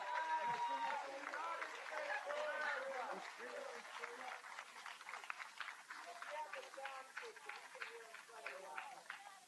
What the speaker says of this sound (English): Round of applause for Pam.